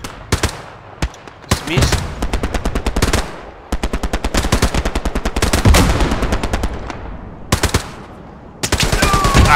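A tank fires on the player in the World War II shooter Hell Let Loose: long, loud bursts of rapid machine-gun fire with brief pauses between them, and someone talks briefly over it.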